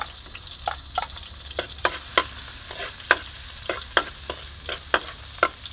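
Chili and garlic fry in a pan outdoors, a soft constant sizzle broken by a steady series of sharp utensil scrapes and clicks as the mix is stirred. No voices.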